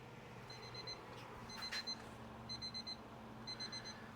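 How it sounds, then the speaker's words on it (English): A Brew Father brewing timer beeps in short repeated bursts of four, evenly spaced about once a second, faint over a steady low hum during a homebrew boil. "There's the old Brew Father timer."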